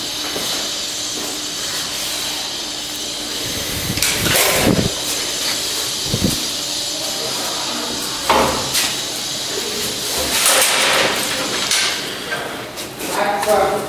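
A 1919 TITAN freight elevator in Copenhagen running during a ride: a steady mechanical hiss and hum, broken by several sharp clunks and rattles, heard up close.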